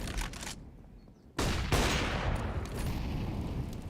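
Gunfire in a Counter-Strike professional match bursts out in rapid volleys, a short pause followed by a loud, dense run of shots that carries on steadily with no voices over it.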